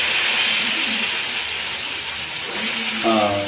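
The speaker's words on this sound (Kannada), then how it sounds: "ಹಿಂಗೆ ಹಿಂಗೆ ಒಗ್ಗರಣೆ ಹಾಕೋದು" Ghee tempering (oggarane) for sambar sizzles with a steady hiss that eases and then swells again near the end, close by.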